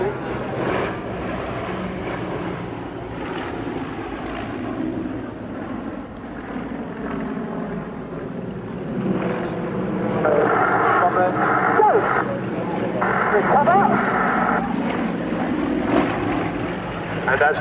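Propeller aerobatic aircraft of the Aerostars display team performing at a Cosford airshow, a steady, loud engine drone that swells and rises in pitch as the planes tumble through manoeuvres overhead.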